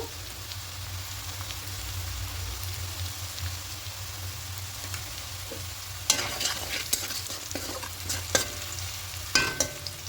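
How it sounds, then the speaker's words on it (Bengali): Sliced onions sizzle gently in an oiled pan, then a spatula begins scraping and stirring with several sharp, irregular clatters over the steady frying hiss. "পেঁয়াজটা দিয়ে একটু লাল লাল করে ভেজে একটু হালকা লাল লাল করে ভাজা হয়ে যাচ্ছে"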